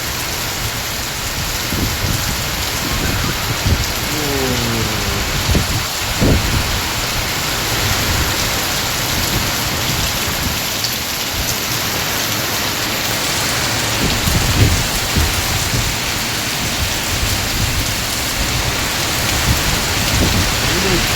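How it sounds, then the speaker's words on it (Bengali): Heavy rain pours down in a constant roar, with a gusty, stormy wash and a brief low rumble; faint voices surface now and then. "এত বৃষ্টি জোরে হচ্ছে বন্ধুরা দেখতে পাচ্ছ সর্বনাশ ঝড় উঠে গেছে"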